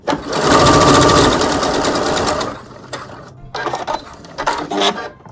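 A sewing machine running a normal stitch on a hair topper, a loud rapid mechanical whirr that stops, then resumes in a few shorter bursts close to the listener.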